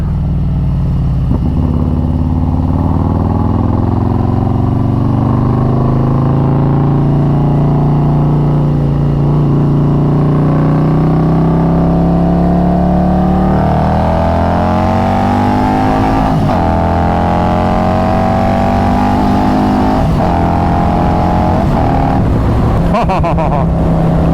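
Harley-Davidson Road Glide with a 2-into-1 exhaust and an S&S 475 cam, heard as a loud, deep engine on the move, rumbling steadily and then rising in pitch as it accelerates through the gears, close up and continuous.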